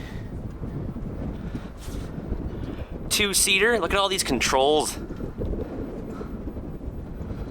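Wind rumbles and buffets against the microphone throughout, with someone speaking briefly in the middle.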